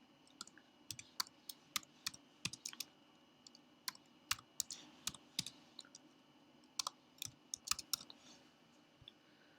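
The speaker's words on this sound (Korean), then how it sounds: "이렇게 엔터를 누르면 한 칸씩 한 칸씩 넘어가요." Sharp, quiet computer keyboard key presses, including the Enter key, tapped in an irregular series of separate clicks over a soft steady background hum, with no talking.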